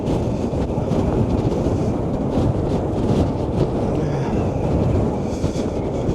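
Strong storm wind at a Blackpool seafront at high tide, roaring steadily and heavily across the microphone with a low rumbling buffet that never lets up, and no voices.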